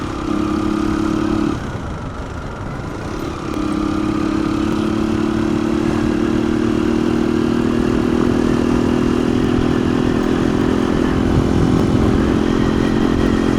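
A CG125 motorcycle rides along a smooth rural road in Bangladesh, its engine humming loud and close with a steady tone, briefly dipping as the rider shifts, then holding a constant drone under wind rush.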